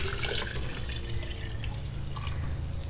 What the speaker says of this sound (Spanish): Y la voy a regresar a mi jarra.